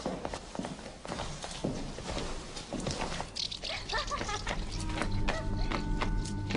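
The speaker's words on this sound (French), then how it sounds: "c'est votre cheval que j'entends" Hooves of an approaching horse in a fairy-tale drama, a rhythmic clip-clop that grows louder and nearer over a few seconds, mixed with other background noises.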